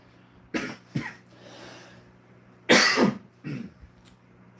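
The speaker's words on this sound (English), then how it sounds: "Sorry if I'm coughing" Several dry coughs in short clusters, close and fairly loud, with quiet gaps between them and no speech.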